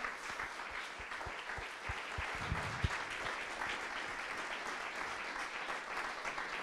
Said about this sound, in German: nochmal großer Applaus